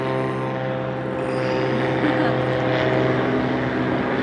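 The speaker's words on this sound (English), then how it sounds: "It's a seaplane." Seaplane with wheels flying past near a runway in Skagway, Alaska, a loud, steady propeller drone that swells slightly midway, with talking mixed in.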